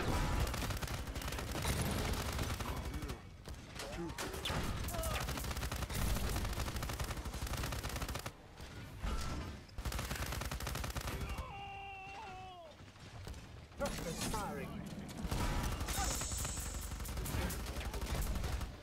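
Gunfire crackles through a Paladins match, dense bursts of shots layered with other game effects and short gaps, loud and close.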